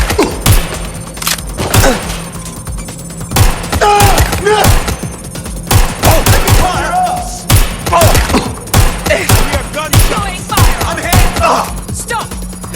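Gunfire rings out in the video game Watch Dogs Legion as sharp, irregular shots and heavy thuds, close and loud, with voices intermittently mixed in among the impacts.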